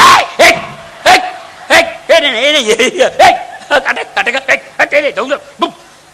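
A voice imitates a dog barking, a string of sharp, loud woofs and yelps, some drawn out and whiny, delivered in quick bursts with laughing spoken remarks mixed in.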